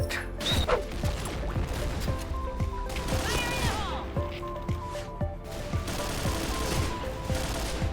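Rapid game gunfire in a first-person shooter, repeated sharp shots in irregular bursts over a constant busy mix of effects and music, fairly loud throughout.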